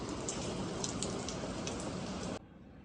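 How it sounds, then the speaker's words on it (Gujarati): Steady rain patters in a close, even hiss with scattered drops ticking through it, then cuts off abruptly, leaving near silence. "મારે વરસાદ આવ્યો"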